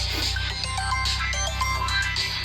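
A mobile phone ringtone plays a bright repeating electronic melody, steady and fairly close, with a soft background hum under it and no voices.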